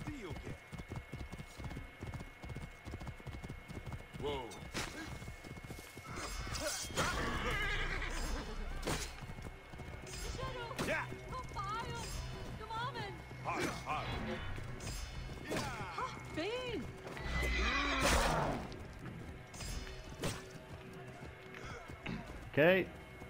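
In the Assassin's Creed Origins video game, a horse gallops with rapid rhythmic hoofbeats and lets out loud whinnies, while a player talks over the action.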